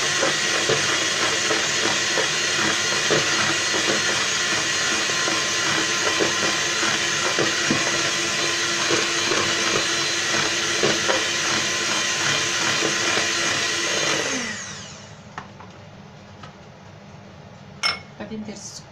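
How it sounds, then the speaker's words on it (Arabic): An electric hand mixer whirs steadily and loudly while beating room-temperature eggs for small cakes, with faint clinks of a bowl, then cuts off about three-quarters through, leaving quiet kitchen noise and a couple of light knocks. "طراب كهربائي"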